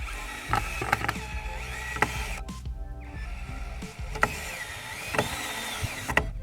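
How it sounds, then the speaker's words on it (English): A power drill drives screws into a pallet wood bridge for a child's play area, with repeated whirring bursts, short pauses in between, and a few sharp knocks close by. "Ben is going to put in a couple of screws himself"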